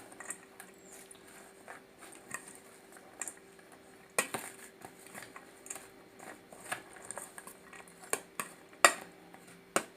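Onions and chopped green chillies are mixed in a pan for beetroot vinegar pachadi, with scattered light clinks and scrapes of a spoon against the pan over a quiet background.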